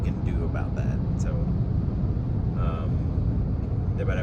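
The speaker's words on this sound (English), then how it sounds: "I do hear like some wind noise." Steady wind noise inside a moving Tesla Cybertruck cabin, a constant low broadband rush heard alongside road rumble, with someone talking over it.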